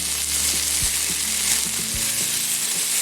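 Steady, dense sizzling of salmon frying in a hot pan, with a few faint low knocks from the pan, continuous and close.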